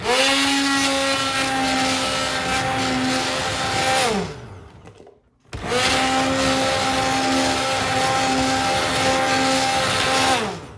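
A blender pureeing marinara sauce in an Instant Pot, a loud steady motor whine that winds down, cuts out briefly, then starts up again at full speed.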